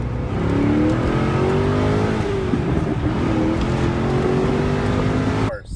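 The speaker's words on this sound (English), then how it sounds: "Car's running really good, it's not overheating." A Pontiac GTO engine runs loud and close, its steady roar rising and falling through a few revs before cutting off sharply near the end.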